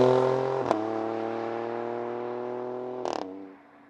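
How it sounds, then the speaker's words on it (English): The V6 engine of an Alfa Romeo Stelvio Quadrifoglio holds a loud, strained, high-revving note, briefly broken by two sharp gearshift cracks, then drops away as the revs fall. "that's when you can hear that V6"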